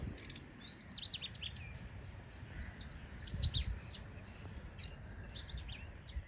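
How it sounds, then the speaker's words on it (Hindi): Small birds chirp and tweet in a rooftop terrace garden among potted plants, a scatter of quick high calls coming in bursts over steady low background hum from the street. "अभी आप आवाज़ें सुनिए क्योंकि और चिड़िया आ गई।"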